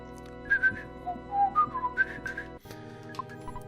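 A character whistles in the SNES game EarthBound, a series of short, wavering melodic whistle notes over a low synthesized game-music backdrop, ending as the music shifts abruptly.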